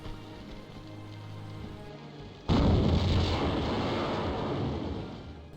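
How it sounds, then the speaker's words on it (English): Lara blowing apart in Tomb Raider 2 after a level skip cheat: a steady low rumble gives way at once to a loud, sustained burst of crackling, rain-like noise that fills the rest of the clip. "If you do the Tomb Raider 1 level skip cheat code, in Tomb Raider 2 Lara just explodes."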